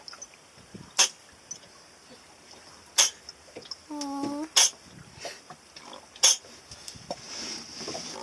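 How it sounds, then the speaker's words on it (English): A turtle sneezes in a series of four short, sharp puffs spaced a second or two apart, close to the microphone, with a brief voice reacting softly between them. "Have you ever heard a turtle sneeze?"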